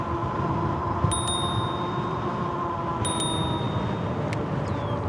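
Someone rings a bicycle bell on an e-bike, bright dings in two quick pairs and a later single ring over steady road and traffic noise.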